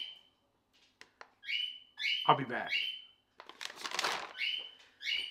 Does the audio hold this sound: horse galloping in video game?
no